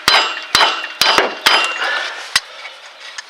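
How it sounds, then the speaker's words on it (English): Sharp metallic hammer strikes on a bolt during a lower ball joint replacement on a Ford Taurus, about six hits in a loose rhythm, each a bright clang with a short ringing tail, close by. "Take a hammer and hit it a couple times"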